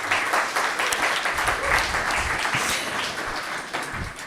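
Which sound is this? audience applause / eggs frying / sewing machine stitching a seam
audience applause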